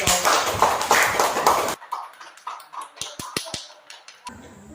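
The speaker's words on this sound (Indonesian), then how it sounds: "beri aplaus untuk kelompok" Applause for a student group in an Indonesian classroom session, a dense burst of many hands clapping at first, then thinning into scattered individual claps and taps.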